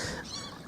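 Honking calls from ducks or geese at a scenic outdoor spot with a family of birds, a short, fairly faint burst of squawks with no talk.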